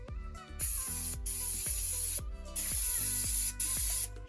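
Aerosol cleaner is sprayed into a Paslode first-fix nail gun set on the floor, in a series of loud, close hissing bursts of about half a second to a second each, separated by brief pauses.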